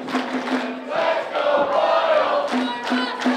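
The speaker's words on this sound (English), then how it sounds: "Great crowd here at Overland Park." Wrestling show crowd at an Overland Park event cheering and shouting steadily throughout, a dense roar of many voices with individual yells rising above it.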